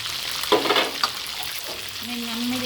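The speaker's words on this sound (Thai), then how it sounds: "เสียงน้ำมันแตกคูปะ" Garlic pepper shrimp frying in hot oil, a steady close sizzle with crackling pops and spoon stirring throughout, alone with no voices.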